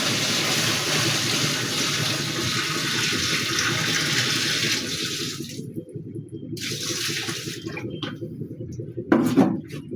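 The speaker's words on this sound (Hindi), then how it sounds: "देखिए अब मैंने पानी डाला इसमें मैनुअली" Water is poured by hand into a Haier fully automatic top-load washing machine, a steady rushing splash that stops abruptly, resumes briefly, then ends with a few scattered splashes and drips.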